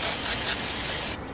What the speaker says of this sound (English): With blue spray.